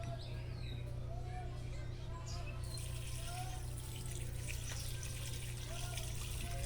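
Steady water trickling and pouring off washed rice against a constant background hum, continuous throughout with faint chirps overhead.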